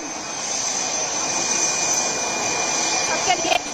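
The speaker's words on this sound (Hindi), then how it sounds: "जब भारतीय सेना में, भारतीय वायुसेना में कोई लड़ाकू विमान या विमान शामिल होता है तो दोनों तरफ से पानी की बौछार की जाती है" A fighter jet being inducted into the Indian Air Force rolls through a ceremonial water salute, its engine a loud, steady roar with a high whine, with brief bursts of spray or commotion near the end.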